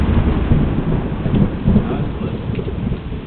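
Thunder rumbles loudly through a heavy downpour just after a close lightning strike, a deep roll over dense, steady rain hitting the ground nearby.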